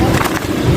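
An electric scooter ridden outdoors in hot weather, giving a steady close rolling rumble of wheels on pavement with no voices over it.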